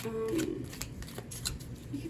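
Tarot cards being shuffled by hand, heard as soft, quick riffling and sliding taps close by, fairly quiet, with a voice briefly over them.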